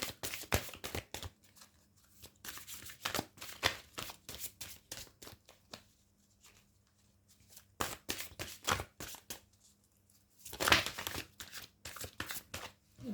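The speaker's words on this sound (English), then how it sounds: "Let me just shuffle your cards." Cards are shuffled up close in quick riffling and sliding bursts, pausing briefly twice before resuming, with no voices.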